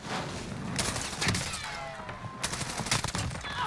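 Bursts of gunfire in Call of Duty Warzone, several sharp rapid shots in quick clusters over muffled game ambience, fairly faint overall with no talk.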